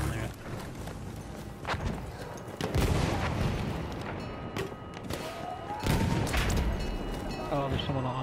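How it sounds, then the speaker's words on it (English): Battlefield 1 combat brings repeated gunshots and heavy booms that rumble the ground, loud and close in irregular bursts, with a heavy tank nearby and player voices talking over the fire. "Every time I shoot, the ground rumbles."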